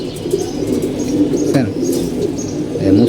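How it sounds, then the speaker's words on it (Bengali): A tame pet pigeon coos low and close in repeated soft phrases, with faint chirps of other birds around it. "খুব ফ্রেন্ডলি এটা কবুতর"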